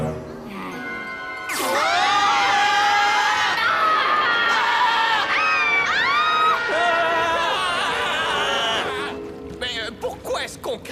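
Cartoon characters riding a flying dragon scream and shout together in a long, loud, sustained chorus of high wailing voices, then break off into excited chatter.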